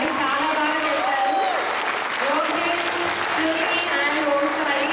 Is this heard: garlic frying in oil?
no